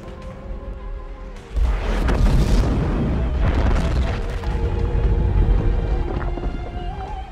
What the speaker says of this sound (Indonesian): para pasukan Jerman yang sudah siap di luar pun langsung meledakkan gedung tersebut